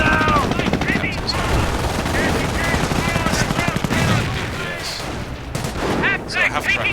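Dense machine gun fire crackles in a real-time strategy war game, loud and continuous alongside other gunfire and battle effects, while game voices shout over the fighting.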